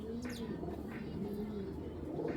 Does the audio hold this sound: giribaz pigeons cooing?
yes